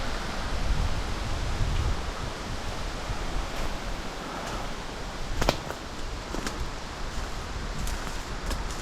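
Wind rushing through a pine forest with deadfall along a Northern Alberta backroad, a broad steady roar with gusts, loud and close to the microphone.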